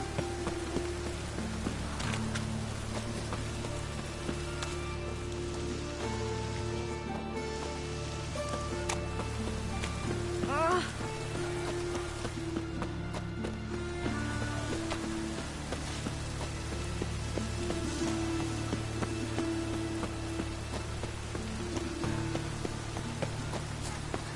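Steady rain falls and patters on surfaces in a town in The Witcher 3: Wild Hunt, a constant hissing wash with no voices over it.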